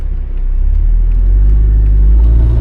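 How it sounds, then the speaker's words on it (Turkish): A car passes close by on a road at night, heard as a loud, deep, steady engine rumble that swells slightly as it goes, with no talking. "Araç ne biçim geçiyor ya abi"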